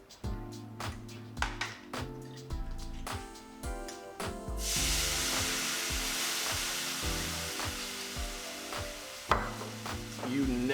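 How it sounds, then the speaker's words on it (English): A hot pan is deglazed after cooking deboned chicken, with clattering and scraping at first and then a loud, sustained sizzling hiss that fades later. "I want to scrape all this out and deglaze."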